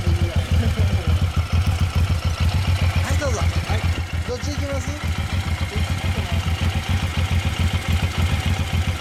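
A 2008 Suzuki Boulevard M109R cruiser motorcycle idles with a steady, loud low-frequency exhaust throb close by, while people talk over it.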